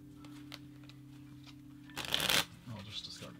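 A deck of cards being shuffled during a board game playthrough, one quick riffle of moderate loudness over a steady low background hum, with a voice speaking faintly nearby.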